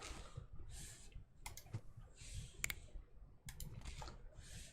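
A computer mouse clicking in Dinosaur Fossil Hunter, several sharp close clicks in small clusters against quiet, faint background.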